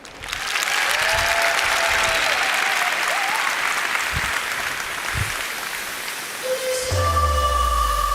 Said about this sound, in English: Give the biggest round of applause you can do so far.